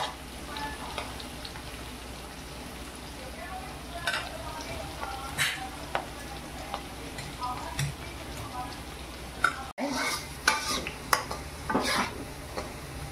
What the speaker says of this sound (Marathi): हे आपला कांदा मस्तपैकी तळलाय, बघू शकता